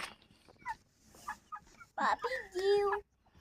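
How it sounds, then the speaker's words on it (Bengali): Domestic chickens kept at a house cluck in short, close bursts, ending with a louder drawn-out call, alongside faint background noise. "দেখো আমাদের বাড়িতে কত মুরগি পোষা আছে"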